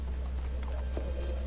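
Horse hooves clip-clop in The Walking Dead: The Final Season video game, a few soft irregular steps over a steady low rumble, with no one talking.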